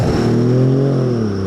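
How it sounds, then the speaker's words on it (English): A car with a turbo accelerating nearby, its engine rising in pitch with a thin high whistle sustained above the steady drone, loud and close with no talk. "I heard the little turbo whistle."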